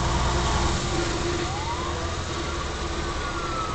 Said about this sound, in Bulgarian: Чуваме пожарната.